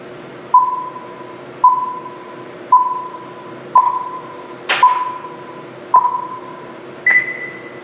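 A computer simulator emits a regular series of seven short electronic beeps, about one per second, each with a brief decaying tail; one beep carries a sharper click and the last is higher in pitch.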